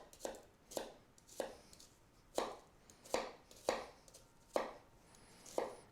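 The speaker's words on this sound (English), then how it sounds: "I used to be so much quicker at chopping onions" A knife chops an onion into small dice on a board, eight sharp, evenly spaced cuts landing close and clear with brief gaps of quiet between them.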